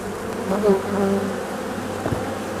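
A dense, steady buzz of many honeybees hums close by inside a hive, a continuous droning swarm with shifting tones.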